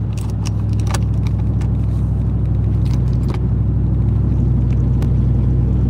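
Inside a truck cruising down a road, a loud constant low engine and tire rumble drones on, punctuated by small rattles and clicks from the cab.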